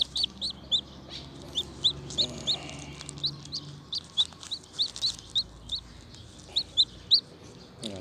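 A newly hatching chick inside a homemade incubator peeps in a steady run of high, sharp cheeps about twice a second, close and clear over a faint background hum.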